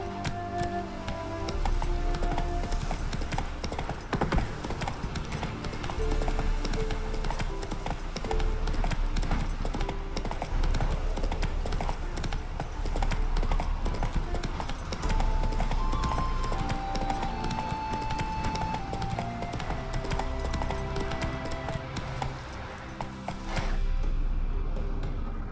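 Horse hooves clip-clop steadily at a gallop in The Witcher 3, a continuous rhythmic beat over game music with an occasional whinny, running the full length without pause.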